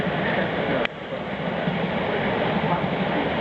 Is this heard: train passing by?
yes